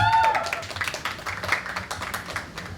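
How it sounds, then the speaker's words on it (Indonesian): Applause at a hybrid talk show on agribusiness as speakers are thanked: scattered, uneven clapping from a small group with distinct individual claps, fairly close, plus a brief tonal sound at the start. "Diiringi tepuk tangan boleh"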